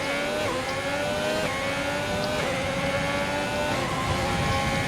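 A Mercedes Formula 1 car in the F1 2020 racing game screams through repeated upshifts, its high engine pitch climbing and dropping back with each gear change. The engine stays loud and steady throughout, and no one talks over it.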